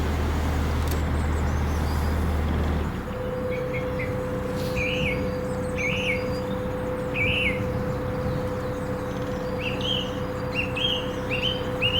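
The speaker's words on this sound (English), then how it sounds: "it was unusual bird song, wasn't it?" Short bursts of bird song chirp repeatedly over the steady rumble of nearby road traffic beside a canal on a winter's day, with no one talking.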